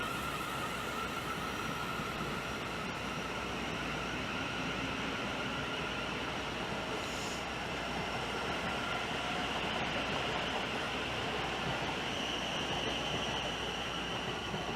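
A Class 700 passenger train departs Swanley station, a steady broad rumble of wheels and traction that holds level throughout with faint high squeals, no talk.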